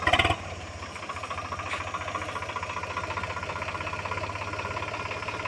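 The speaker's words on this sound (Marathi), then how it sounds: "ट्रॅक्टर परत दुसऱ्या तासानं जात आहे" A tractor engine drones steadily while pulling a plough through a field, a close, even, throbbing chug that holds unbroken after a brief louder burst at the start.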